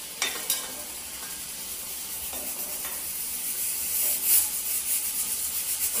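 A prawn dish fries lightly in a hot pan, giving a steady loud sizzle and hiss with occasional stirring scrapes that grow slightly stronger toward the end.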